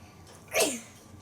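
A child's single short, sharp sneeze bursts out close by, then quiet returns.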